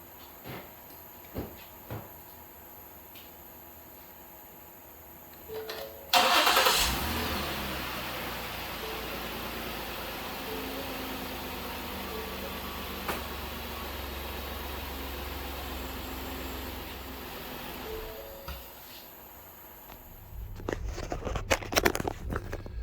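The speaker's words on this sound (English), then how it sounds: "we're going to start the motor up and make sure the oil cycles through the engine" A Ford Explorer XLT 3.5L engine cranks and catches with a sudden loud burst, then settles into a steady, even idle that runs on, followed by clunks at the end.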